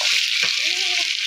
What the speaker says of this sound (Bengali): এখন মাংসটা এবার ঢেলে দিলাম। এখানে একটু ভালো করে নাড়াচাড়া করে নেব।